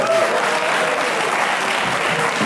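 A television studio audience applauds loudly and steadily, with dense clapping throughout and no talking.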